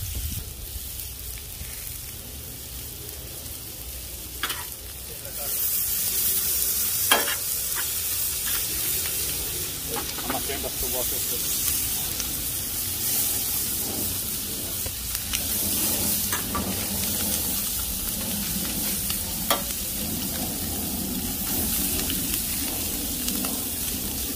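Mixed meats seasoned with onion powder and pepper sizzle on a well-seasoned griddle, a steady close hiss that swells after a quiet opening, broken by occasional scrapes and taps.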